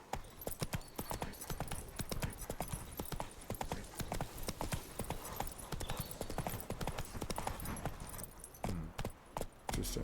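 Roach, a horse in Witcher 3: Blood and Wine, gallops with fast, steady clip-clop hoofbeats, loud and close, running continuously with a brief change of pace near the end.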